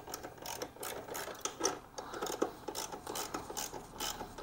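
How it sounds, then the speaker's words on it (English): Hand socket ratchet cinching half-inch bolts during small-engine carburetor and spark plug maintenance, giving a faint, fast run of clicking ratchet strokes with no talk. "I'm gonna go ahead and just cinch them down with my socket"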